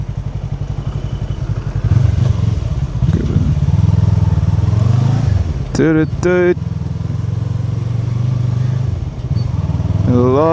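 A scooter ridden on a road in Korea, its small engine droning steadily up close throughout, with a few brief high electronic beeps or tones partway through.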